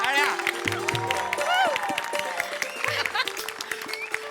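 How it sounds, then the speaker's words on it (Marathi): An audience claps loudly to welcome comedian Samir Chougule onto the stage at a Maharashtrachi Hasyajatra comedy show. The dense, continuous applause runs over stage music and a voice. "जोरदार टाळ्या"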